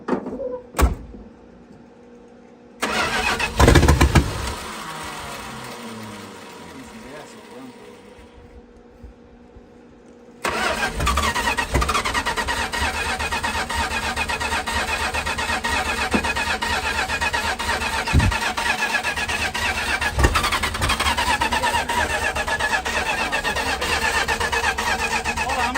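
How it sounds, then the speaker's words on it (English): An engine is cranked over in bursts, with a whirring starter and sputters between quiet gaps. It then settles into a loud, steady running rumble with occasional knocks. "we'll just have to crank it a little bit and just to get her going"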